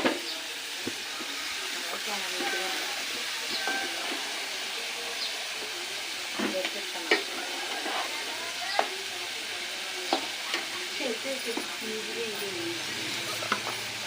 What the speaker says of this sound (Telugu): ఆనియన్స్ వేసుకుని ఇలా కలుపుకోవాలి